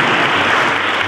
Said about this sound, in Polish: Też bardzo proszę o gorące oklaski